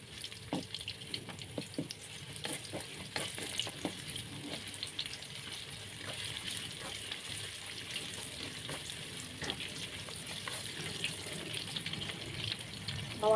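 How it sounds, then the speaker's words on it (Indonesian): Onion and spices fry in a pan on a home stove, a steady close sizzle that runs the whole time, with soft clinks of utensils and a faint tap-water-like hiss. "Lanjut di sini goreng bumbunya"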